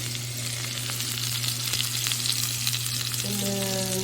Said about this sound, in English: Okay, so the meat is searing.